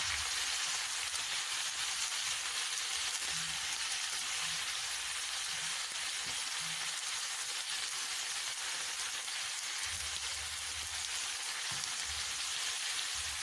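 Onions, broccoli and green peppers for a vegetable and minced meat shakshuka frying in a pan, a soft continuous hiss with faint occasional stirring knocks, steady and fairly quiet throughout.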